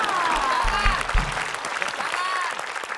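Steady studio audience applause on a TV quiz show runs throughout, dense and sustained, with a voice briefly audible over the clapping.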